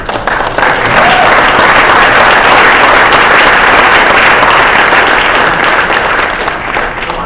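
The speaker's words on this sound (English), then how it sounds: "So I think we should give Alan a nice round of applause." A large audience at a Cooper Union Founder's Day ceremony gives a sustained round of applause for Alan, dense clapping rising quickly and holding steady for several seconds before easing slightly.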